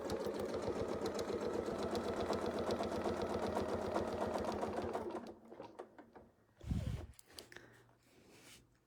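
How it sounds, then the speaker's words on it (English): A sewing machine stitches slowly and steadily with rapid even needle strokes for about five seconds, then stops, leaving a few quiet handling clicks and a brief low thump. "what I'm trying to do when I'm stitching really slow right there at the beginning, like this"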